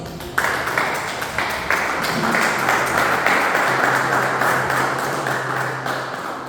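A church congregation claps together in a sustained burst of applause that fills the room, steady and fairly loud throughout, with a low hum underneath.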